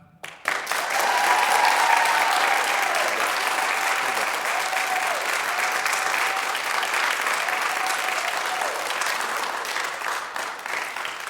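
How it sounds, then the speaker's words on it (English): Audience at a Purim latke versus hamentaschen debate bursts into loud, sustained clapping to vote, a thick steady roar of hands lasting about ten seconds with faint cheers inside it. "Are we going to end it with a clap?"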